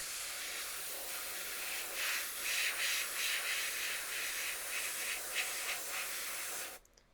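VMS primer sprays onto a surface in a steady hissing blast with a few brief pulses, close and continuous before cutting off abruptly at the end.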